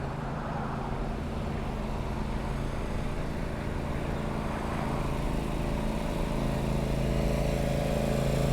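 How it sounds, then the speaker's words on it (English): A riding lawnmower's engine drones steadily as it passes by in town, a continuous low motor hum close by that holds loud and even throughout, with no talk over it. "Lawnmower riding by."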